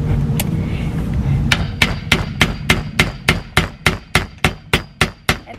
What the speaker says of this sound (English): I'm gonna hammer it down